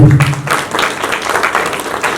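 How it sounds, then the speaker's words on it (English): An audience at an award function claps loudly, a dense, steady wash of applause heard up close for about two seconds. "जोरदार ताली दीजिए"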